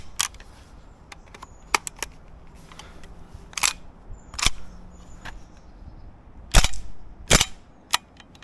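Tokyo Marui Saiga 12 SBS airsoft shotgun firing and cycling, a series of sharp clicks and snaps at irregular spacing, close and fairly quiet, with a couple of stronger cracks near the end.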